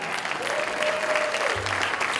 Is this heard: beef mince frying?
no